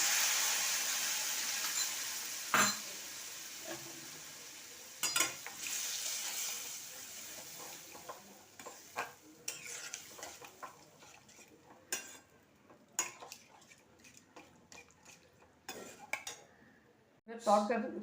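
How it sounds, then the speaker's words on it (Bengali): Beaten yogurt is added to a frying spice paste for soya curry and stirred, with a soft sizzle under repeated sharp clinks and scrapes of a utensil against the pan. "এবার 100 গ্রাম দই ভালো করে ফেটিয়ে নিয়েছি, এটাকে মশলাতে দিয়ে দিল"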